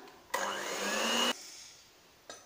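An electric hand mixer whips cream for a homemade Black Forest cake, a loud steady whirring burst of about a second, then a quieter hum and a brief second buzz at the end.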